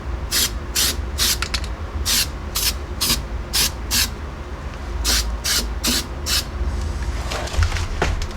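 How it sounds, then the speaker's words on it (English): Seymour galvanized weld-through primer sprayed from an aerosol can onto a Jeep Cherokee XJ unibody frame stiffener, in a dozen short, loud hissing bursts of varying length, close up. "I'm using the Seymour galvanized coating weld through primer"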